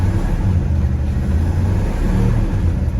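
Inside the cab of a 1951 GMC truck on the move, the engine gives a loud, steady low rumble with slight uneven sputtering and no voices.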